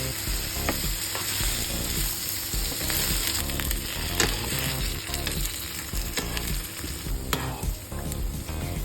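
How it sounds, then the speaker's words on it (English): Carrots and potatoes pan frying for beef caldereta, a steady close sizzle of hot oil with occasional stirring scrapes and pops, continuous and alone throughout. "First thing to do is to pan fry the carrots and the potatoes"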